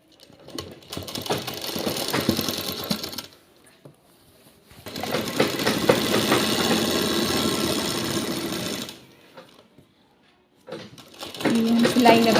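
A sewing machine runs along a trouser seam in several long stitching bursts separated by quiet gaps, close and fairly loud.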